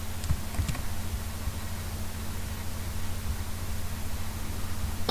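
Typing on a computer keyboard while writing HTML, a few quick light key clicks early on, then faint scattered taps under a steady hiss.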